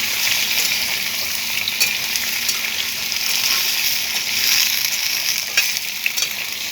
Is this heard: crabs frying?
yes